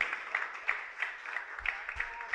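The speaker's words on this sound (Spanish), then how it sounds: "Y denle un aplauso al Señor." A church congregation claps in applause during a Good Friday Seven Last Words service, a steady patter of many hands with brief voices mixed in, moderately distant.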